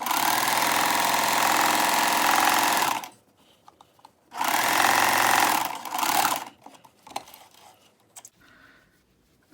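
A sewing machine stitches a row on Glebe pants in two loud, steady runs of rapid whirring, with a short pause and a few small clicks between them.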